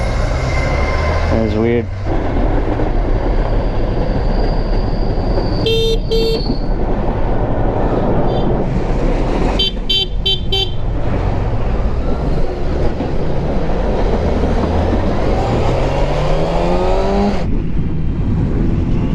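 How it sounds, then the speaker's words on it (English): A loud, steady rumbling roar of a passing train runs throughout, heard while riding a 2017 Kawasaki ZX6R motorcycle, with brief horn-like tones and a voice speaking briefly over the din. "Racing a train."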